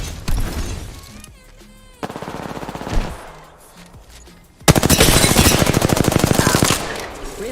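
Video game machine gun fire rattles out in loud, rapid bursts, first in short volleys and then as a long sustained stream of shots up close.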